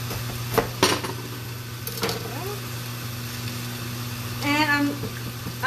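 A kitchen knife slices the top off an onion on a cutting board: a few short, crisp knocks and taps close by, with a steady low hum in the background and no speech.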